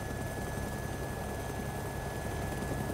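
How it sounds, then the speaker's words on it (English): Helicopter in the video game DayZ: a constant, dense rotor and engine roar filling the clip at steady, moderate level with no pauses or speech. "who's still in my chopper then?"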